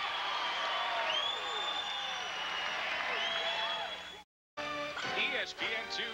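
A boxing arena crowd in Minneapolis roars and cheers steadily at a distance, with whoops and commentary voices over it. The sound cuts briefly and then returns with scattered shouts and applause.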